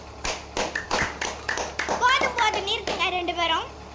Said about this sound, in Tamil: ஒரு பலத்த கைத்தட்டல் கொடுத்துக்கலாம்.